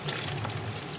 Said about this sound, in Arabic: وهنزل بنص لتر ميه